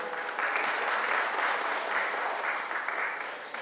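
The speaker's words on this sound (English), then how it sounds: "we should all clap for Pranav Asher for making everybody aware" Dense, sustained applause from an audience at a film society event fills the room, steady and fairly loud throughout with no gaps.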